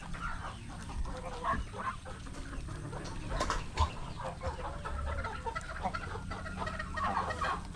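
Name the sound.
geese calling for feed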